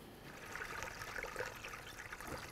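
Coolant pouring into the radiator reservoir of a 2008-16 Chrysler Town & Country, a steady close trickle of liquid running continuously with no talk.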